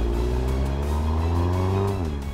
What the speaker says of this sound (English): the car charges ahead with aplomb